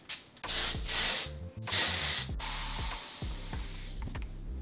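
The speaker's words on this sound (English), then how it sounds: "I'm just going to section my hair and start spraying some products." Texture spray misted onto sectioned hair in a few sharp, close hissing bursts of varying length, with soft handling rustles and clicks between them.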